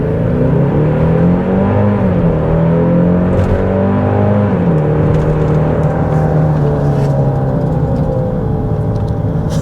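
A 2022 Genesis GV70 with the 2.5T engine launches hard, its loud close engine note climbing in pitch with a brief dip around a shift, then holding a steady strong drone throughout without talk.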